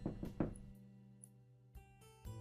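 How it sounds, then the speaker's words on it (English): A knock at the door in the Nekojishi visual novel: a few quick dull raps up front, close and clear, then a quiet lingering tone with soft musical hits following. "then I hear a knock at the door"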